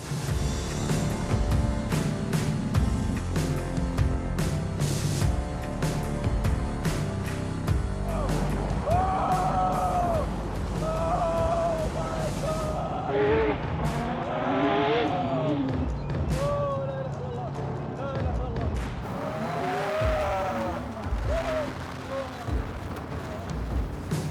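A 1500-horsepower modified dune buggy roars at close range, engine revving hard and continuously with heavy rumbling and shifting pitch, while excited voices shout beneath it during racing on steep sand hills.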